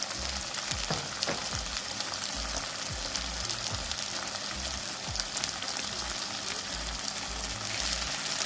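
Chicken pieces browning in a hot pan for Jamaican black bean chicken, a steady close sizzle and crackle of frying with occasional stirring or shifting noises, continuous throughout.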